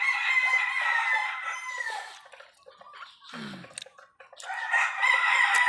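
Chickens and roosters crow and cluck loudly and close by, several birds calling in overlapping bursts with a brief lull in the middle.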